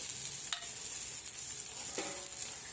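Besan poli, a chickpea-flour flatbread, sizzles steadily in oil on a hot pan, a constant crackling hiss with a couple of soft scraping clicks of a spatula.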